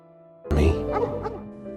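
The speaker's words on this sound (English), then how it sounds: "Walter hears a dog barking outside" A dog barking outdoors in The Number 23 film, a few sharp close barks bursting out after a quiet start over a low musical bed, then trailing into fainter yips.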